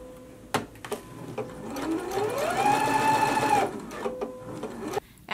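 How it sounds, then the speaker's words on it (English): A sewing machine runs a 5/8-inch seam on an unlined jacket, its motor whirring up to a steady hum and then stopping, with clicks and handling noises before and after. "Now let's go to the machine and stitch this at a 5/8 of an inch seam allowance."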